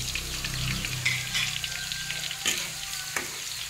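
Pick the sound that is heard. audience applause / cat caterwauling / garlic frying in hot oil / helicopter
garlic frying in hot oil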